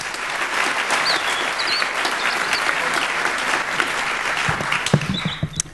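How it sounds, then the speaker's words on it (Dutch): A festival audience at a writers' evening breaks into warm, dense applause that holds steady for several seconds and tapers off at the end. "een warm applaus voor Bettine Vriesekoop"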